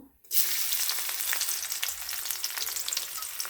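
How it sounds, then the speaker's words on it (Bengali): Chopped onions hit hot oil in a wok, a sudden loud burst of sizzling that settles into a steady, close crackling fry with spitting pops, no voices. "এখন আমি পেঁয়াজ কুচি দিয়ে দেব।"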